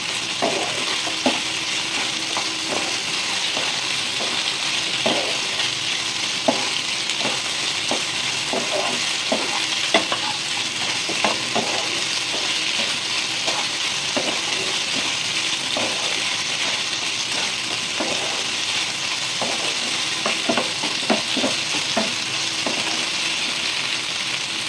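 Pasta being stirred around a hot frying pan, a continuous sizzle broken by frequent scraping and clinking strokes of the spoon at an uneven rhythm, close and fairly loud with no speech.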